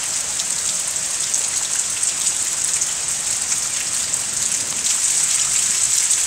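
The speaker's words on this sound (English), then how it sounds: "Yep, she's raining on down." Steady rain falls continuously, a dense hiss of drops pattering on surfaces nearby, with no other sounds.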